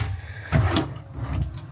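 Storage drawer in a 2025 Entegra Odyssey 31F motorhome opening or closing, a single short wooden slide and knock at close range in a quiet interior.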